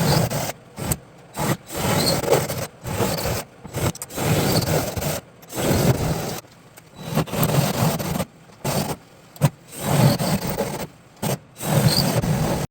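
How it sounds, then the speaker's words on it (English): A spot weld cutter drills out spot welds on the roof of a 1967 Camaro, producing repeated short bursts of close grinding and scraping separated by brief pauses. "drilling out all these spot welds"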